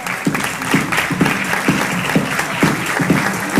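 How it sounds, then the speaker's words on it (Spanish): A crowd applauds at a children's cultural ambassador election pageant in Villa Ángela, with a steady wash of clapping and periodic louder rhythmic claps standing out, with no voice over it. "para quien pedimos un fuerte aplauso."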